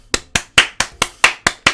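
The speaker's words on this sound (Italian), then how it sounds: "Applausi, applausi, applausi per Surri, Surri, Surri." Eight sharp, evenly spaced claps in quick succession, loud and close, like a short burst of single-person applause; a video game applause sound effect.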